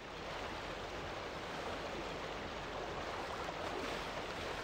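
Steady water sloshing and churning as CJ swims in GTA San Andreas, a continuous even wash of splashing with no breaks, moderately close and unaccompanied by voices.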